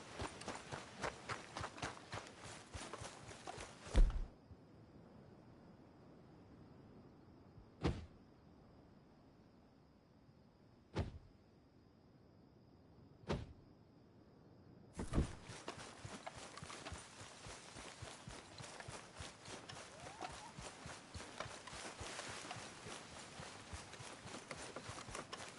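Horse hooves clop rapidly and rhythmically in Red Dead Redemption 2, a dense gallop that stops for a quiet stretch with a few isolated thuds, then resumes at a steady pace.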